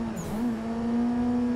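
A car engine revs in a drift racing simulator at Lime Rock, holding one steady, loud droning note that climbs slightly and then stays high, with no talk.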